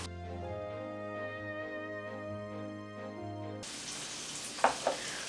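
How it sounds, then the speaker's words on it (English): Shrimp frying in a pan gives a steady broadband sizzle that replaces background music partway through, with two sharp clinks near the end and no talking. "while our shrimp is finishing up cooking"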